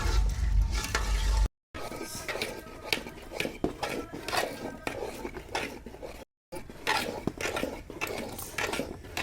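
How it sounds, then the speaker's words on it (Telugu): Thick jaggery syrup for ariselu being stirred in a large pot, a spoon scraping and clattering against metal in busy repeated strokes over a soft bubbling sizzle, broken by two brief silences. "తీగ పాకం వచ్చేదాకా బాగా కలుపుకోవాలండి"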